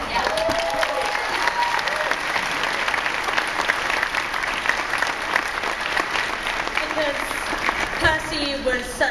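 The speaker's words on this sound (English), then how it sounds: "we should have a round of applause for Xander Berkeley" An audience at a San Diego Comic-Con panel for the series Nikita applauds actor Xander Berkeley: sustained, dense clapping with some cheering, a few voices and whoops breaking through toward the end.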